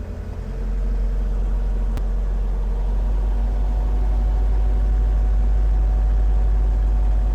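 A tractor engine driving a DTZ FN-1.8 tiller gearbox, a loud, close, steady low rumble that rises slightly as the revs increase, with a brief sharp tick near the start.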